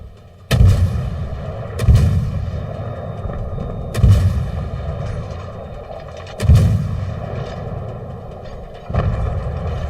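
Warship naval guns fire in the World of Warships game, five heavy booming salvos spaced a couple of seconds apart over a steady engine and sea rumble.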